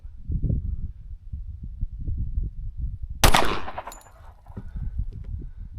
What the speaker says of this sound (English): And we're going to shoot at the left target.